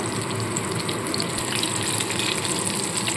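Amudi fish fry Digha style in hot oil, the small fish browning until reddish, giving a loud, steady, dense sizzle that fills the whole stretch without a break.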